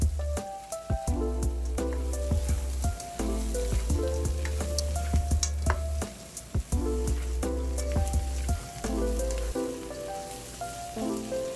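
Fried pork and pancit bihon rice noodles are tossed in a hot pan, giving a steady sizzle over music. Utensils scrape and tap the pan now and then.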